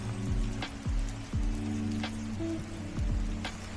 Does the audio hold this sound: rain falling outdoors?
yes